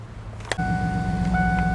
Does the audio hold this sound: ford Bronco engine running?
yes